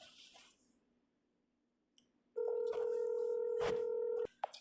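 A phone dials out during a call setup, a faint click and blip followed by a loud sustained stack of steady tones with brief taps over it, cutting off abruptly near the end.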